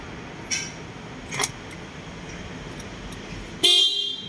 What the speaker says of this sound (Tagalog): So mayroon ng busina.